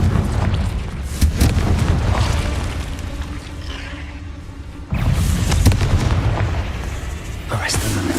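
A Confringo fire spell in Hogwarts Legacy going off as one deep, booming blast partway through, amid ongoing game-combat rumble and crackle.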